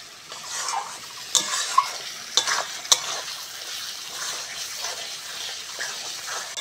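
Spice masala for chicken curry being sautéed and stirred in a pot, a low sizzle with a few sharp clinks of a spoon on the pot early on, then gentler scraping, quiet and close.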